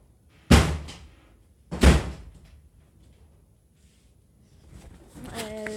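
A door in a survival video game bangs twice, two sharp heavy thuds about a second apart, followed by quiet and then a soft tonal ambient rise.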